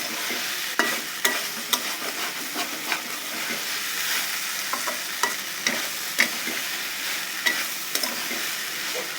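Shrimp chorchori fries in a little oil, a continuous sizzle broken by repeated scraping and stirring strokes of a spatula against the pan, close and steady throughout.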